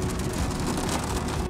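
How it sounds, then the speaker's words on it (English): Heavy rain pouring down in the Wasatch Mountains, a dense, loud, continuous hiss of drops pelting surfaces close by, with no talking. "started raining really hard"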